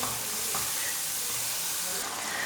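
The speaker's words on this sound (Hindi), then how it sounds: "अब हम इसके अंदर डाल देंगे टमाटर" Two finely chopped tomatoes sizzle in a pan of spiced masala for mash dal, giving a steady, close, unbroken frying hiss throughout.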